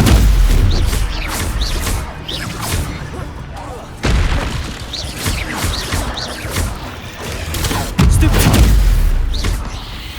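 Rapid spell combat in Hogwarts Legacy against spiders, with repeated booming blasts, crackling impacts and shattering bursts in dense, overlapping succession, loud and continuous, with scattered voices and grunts in between.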